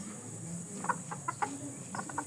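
A Texas-breed hen gives a few short, soft clucks spaced across a couple of seconds, close by but fairly quiet over a steady background hum.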